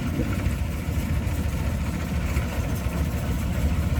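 A speedboat's engine with a loud silencer rumbles steadily at a Bangkok floating market, a close, deep, continuous drone that never lets up, with no voices over it.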